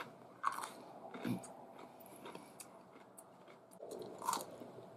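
A crisp pickle is bitten and chewed, giving a few quiet crunches and soft chewing noises close to the mouth, with no speech over them.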